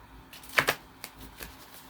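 Two quick bursts of tarot cards from a handmade deck riffling together, followed by a few lighter taps and flicks of cards in a quiet room.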